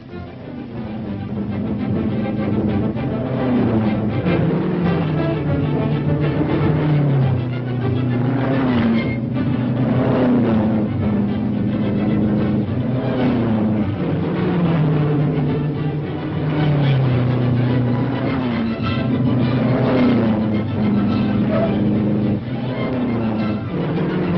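Racing cars from a 1941 colorized auto-racing film roar past steadily, engines droning and shifting pitch as they speed by, a continuous loud mechanical rush with a faint voice mixed beneath.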